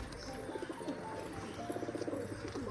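A pair of pigeons perched on a water tank near their cage give low, rolling coos in short repeated phrases, faint against steady background noise.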